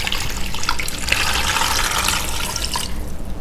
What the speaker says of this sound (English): we want to just pour water over them